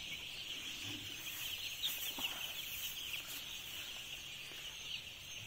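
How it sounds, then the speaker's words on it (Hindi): A 22,000-capacity broiler shed filled with day-two chicks: a steady, dense wash of high peeping chirps from the flock, continuous and even throughout, with no talk. "ये आज डे टू के चिक्स हैं।"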